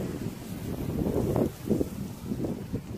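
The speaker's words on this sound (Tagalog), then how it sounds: "Sobrang lakas po ng hangin." Strong wind on a farm field buffets the microphone in loud, gusty rushes, surging and easing over a constant low roar.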